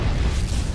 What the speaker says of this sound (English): but maybe a supernova explosion.